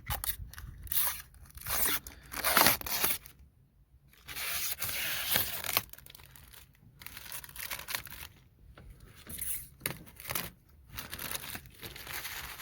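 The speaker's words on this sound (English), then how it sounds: "we can then peel off the plastic covering" Protective plastic film is peeled off a Ford Focus MK2 ST plenum cover in crinkly, tearing bursts with short pauses, close and fairly quiet.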